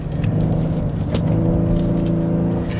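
A 2024 Genesis G80 3.5 turbo AWD sedan accelerating on a winding mountain road, a steady loud low engine drone with road rumble and no talking.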